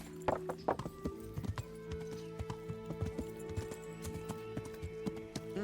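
Steady clip-clop of horse hooves at a walking pace in the video game Kingdom Come: Deliverance, fairly close, with a sharper cluster of hoofbeats near the start over a low continuous hum.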